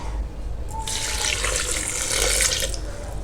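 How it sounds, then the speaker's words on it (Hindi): Water is poured into a blender jar holding spices such as cumin, black salt and green cardamom, making a steady splashing rush that builds through the pour and stays close and moderately loud. "ठीक है, अब इसमें हम डाल देंगे पानी।"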